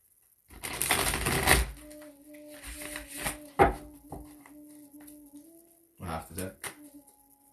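Tarot cards being shuffled and pulled, bursts of riffling and flicking clatter at the start, middle and end, close by, with quiet sustained tones and near-silent gaps between.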